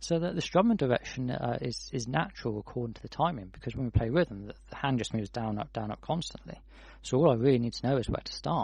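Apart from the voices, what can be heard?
None of the usual background noises is heard.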